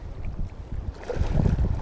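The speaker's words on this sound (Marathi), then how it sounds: "मला हवेचा आवाज पण येईल ह्या कॅमेऱ्यामधून" Strong wind gusts buffet the microphone out on the sea off Mumbai during line fishing from a boat, a rumbling, uneven roar that swells toward the end, with no voices.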